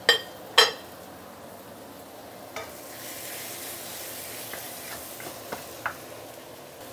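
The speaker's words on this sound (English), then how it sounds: "Next thing I'm going to do is to add in the pork slices" Pork slices and yellow onion fry in a pan for pork curry. A couple of sharp utensil knocks open a quiet, soft sizzle, and light scraping and tapping follow now and then.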